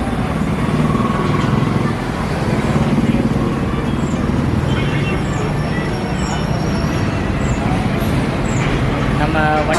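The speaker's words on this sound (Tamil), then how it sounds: "இப்போது ஹைவேல தான் இருக்கேன் பாருங்கள். இதுதான் கோயம்புத்தூர் ஹைவே தான்." Traffic on the Coimbatore highway rumbles in a continuous, loud roadside wash of passing vehicles, while someone talks close by over the noise.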